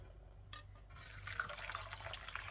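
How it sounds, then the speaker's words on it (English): Milk for mishti doi is poured through a strainer, a quiet liquid trickle and splash that starts after a brief pause and runs steadily, faint and close. "pour the milk in it"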